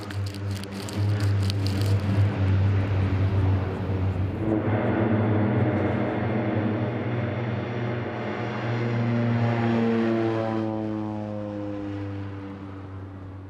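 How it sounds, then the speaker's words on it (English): A propeller plane's engine drones loudly and steadily on a dirt strip in the mountains, rising in pitch as it powers up and pulls away, with no voices. "the plane is turning around and leaving me very much alone"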